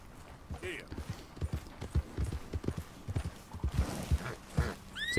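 A horse in Red Dead Redemption 2 clops along with an irregular patter of hoofbeats and gives a couple of brief whinnies, all fairly faint and in the foreground of quiet game ambience.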